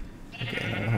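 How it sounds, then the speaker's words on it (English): A Minecraft sheep gives a short, nasal bleat that rises into a clear wavering baa partway through, close and moderately loud with no speech. "I found the pink sheep, Charles."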